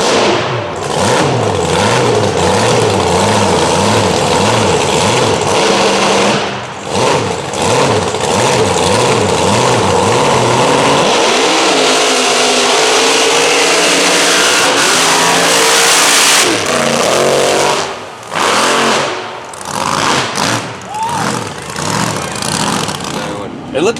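Ford Powerstroke diesel engine in a race vehicle revving hard, loud rising and falling engine sweeps with brief dips between pulls, up close and dominating throughout.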